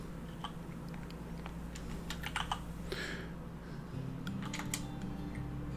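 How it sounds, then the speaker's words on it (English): Typing on a computer keyboard while entering a Vim Tutor command: a quick, irregular patter of close keystrokes in short bursts, with no talking. "So if you just go ahead and type Vim Tutor"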